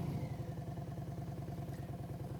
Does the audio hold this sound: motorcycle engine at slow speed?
yes